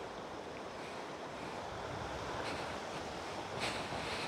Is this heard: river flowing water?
yes